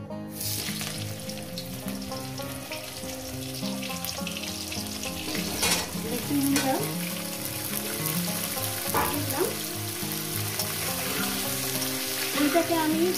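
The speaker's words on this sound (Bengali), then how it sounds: "এবার এর মধ্যে দিয়ে দেবো আমি এঁচোড়গুলো দিয়ে আমি সুন্দর করে ভেজে নেব" Raw jackfruit pieces sizzle steadily in hot mutton fat in a pan for a jackfruit curry, a continuous loud frying hiss with occasional stirring clatter throughout.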